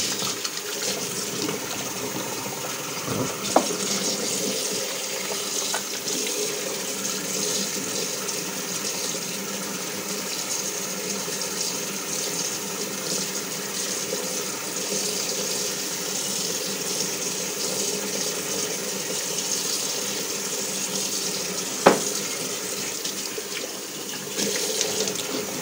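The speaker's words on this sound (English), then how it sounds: "I'm washing up my face with hot water" A bathroom tap runs with hot water while someone washes their face, a steady close splashing stream that continues unbroken, broken twice by brief sharp clunks.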